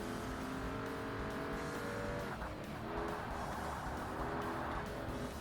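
A racing car in the Forza Motorsport video game, in an amateur roadster challenge, with a loud steady engine drone that climbs in pitch as it powers out of corners and a brief squeal of tyres.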